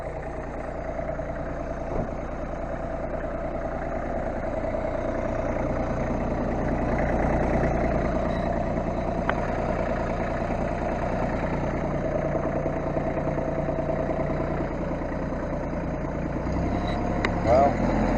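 A 1526 tractor engine idles with a steady, even low rumble, close by and continuous, with a few faint knocks and clicks over it.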